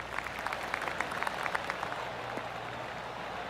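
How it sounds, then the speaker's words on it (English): Soft, scattered golf-clap applause rises from a distant gallery in a golf video game, a gentle patter over a steady low crowd ambience with no talking. "I can hear the golf claps around the course."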